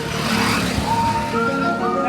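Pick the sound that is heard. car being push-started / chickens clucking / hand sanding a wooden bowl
car being push-started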